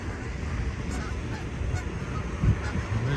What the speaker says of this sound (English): And there's a geese.